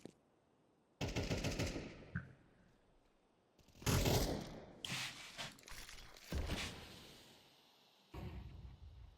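Gunfire in the video game CS2, with bursts of automatic fire sprayed through a smoke grenade. Several loud, sharp volleys come close together with short gaps, and no one talks.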